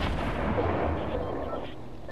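Dense, rumbling gunfire and explosions from an online shooter game play continuously and loudly, with a faint voice partly under the noise.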